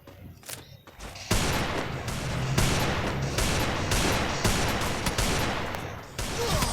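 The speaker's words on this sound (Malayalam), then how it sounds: "ഹെഡ് ഷോട്ട് അടിച്ചിട്ട്" Rapid automatic gunfire in a shooting video game, a loud, dense barrage that starts after a few scattered shots and rattles on continuously at close range.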